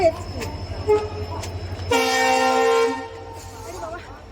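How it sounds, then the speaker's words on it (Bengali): A train rumbles past with a loud, sustained horn blast lasting about a second, rising over a busy station platform where people talk in the background. "ওরে বাবারে ট্রেনের আওয়াজ"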